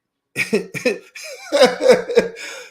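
A voice imitates coughing, a few short, sharp coughs followed by a longer burst of harsh, spluttering coughs, close and fairly loud.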